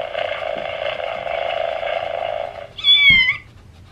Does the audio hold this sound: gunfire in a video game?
no